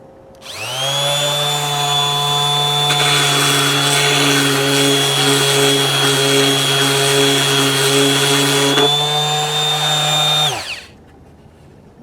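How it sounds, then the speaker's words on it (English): A TACKLIFE mouse detail sander spins up and runs with a steady high-pitched whine while sanding an edge, its tone roughening partway through as it bites the workpiece, then winds down; loud and close with no talk. "I'll try sanding this edge, and then maybe we'll do a little bit of the top"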